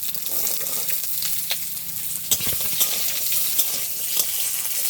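Garlic and green chillies frying in oil in a home kitchen pan, a steady close sizzle with occasional sharp clinks and scrapes of stirring, heard alone without talk.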